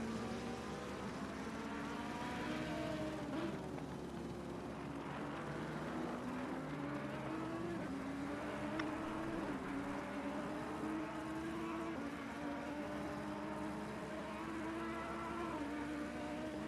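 Audi and Ferrari race cars lapping Silverstone in a sim-racing endurance game, engines droning steadily with rising and falling revs throughout, no voices over the continuous mechanical hum.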